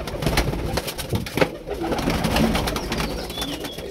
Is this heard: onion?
no